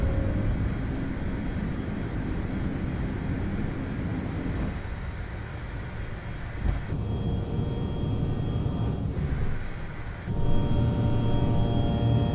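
CRJ regional jet engines at takeoff in a flight simulator game, a loud continuous roar that dips briefly twice and then swells back up.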